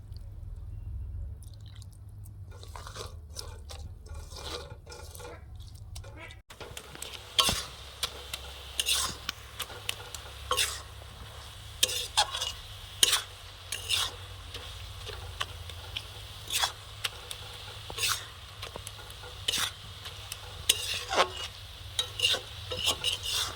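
Grated coconut mixed with jaggery and sugar is stirred in a pan on a gas stove to make naru: close, irregular scraping strokes of a spoon against the pan that repeat steadily, with no voices.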